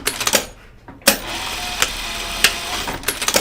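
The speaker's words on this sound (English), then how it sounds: "And I'm just going to sew it straight down." A home sewing machine stitches overlapped elastic straight down on a child's pajama bottoms, a steady close mechanical whir broken by sharp clicks and taps of the fabric and machine.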